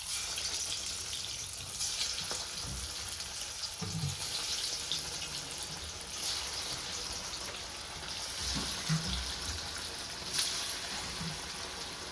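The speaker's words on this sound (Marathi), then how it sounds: "मी आता एक एक वडी तळायला टाकते तेलामध्ये" Cabbage vadi fry in hot oil with a steady, close hiss and bubbling crackle, joined by occasional soft knocks and splashes as pieces go in, and no one talks.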